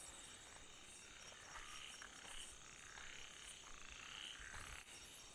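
Frogs croak steadily in the dark near a check dam at a campsite, a faint, continuous chorus with insects buzzing softly behind.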